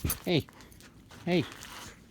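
A pet dog gives two short vocal bursts, likely whines or yips, close by, with a quiet stretch between them. A person is talking to the dog.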